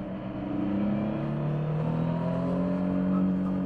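A Yamaha triple-cylinder motorcycle engine runs steadily under load while riding, its drone and harmonic tones sliding as revs change, with constant wind noise throughout.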